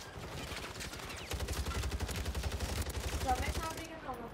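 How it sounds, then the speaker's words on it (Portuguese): Rapid bursts of Warzone video game gunfire rattle continuously, a dense stream of shots that swells midway and fades near the end, with some background voices. "tem muito tiro mesmo"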